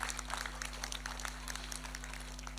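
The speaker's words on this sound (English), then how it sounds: "I think she deserves a round of applause." Scattered applause from a crowd at a Fiji Day celebration in Brisbane, honouring a helper: thin, quiet clapping spread through the clip over a steady low electrical hum.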